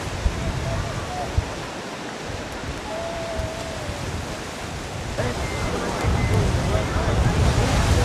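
Ocean waves breaking and surging against the shore at a Rapa Nui festival where young participants ride the waves, a steady loud wash of surf with rising swells toward the end.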